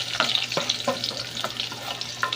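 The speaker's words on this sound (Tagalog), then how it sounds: "isulod na natin ni ang bawang ug ang sibuyas" Garlic and onion hitting hot oil in a pan, crackling and spitting in a steady near sizzle with several sharp pops across the short stretch.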